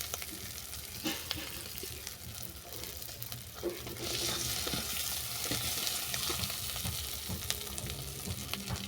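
Crab curry masala with onion sizzles and fries in an oil pan while being sautéed and stirred, a continuous close hiss with occasional spoon scrapes, and no talk.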